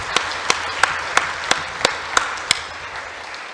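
Audience at a school closing ceremony clapping in unison: about eight loud, evenly spaced claps ringing in a large room, then a diffuse murmur of scattered applause fading out.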